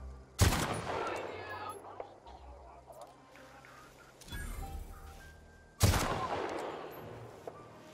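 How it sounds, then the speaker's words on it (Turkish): Bursts of rapid automatic rifle fire in The Outer Worlds, two loud volleys several seconds apart, each trailing off with echoing reverberation amid quieter game ambience. "Keleş gibi ya, çok hızlı seri sıkıyor lan."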